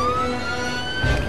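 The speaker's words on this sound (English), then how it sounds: "why were there police sirens when I just got out?" Police siren wailing steadily nearby with a rising tone, alone over low traffic rumble for just over a second.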